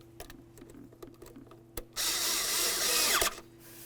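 A tool runs on an 8mm hose clamp at the throttle body of a 2009-2020 Dodge Journey, with a few sharp clicks and taps followed by a loud, close whir lasting over a second before stopping.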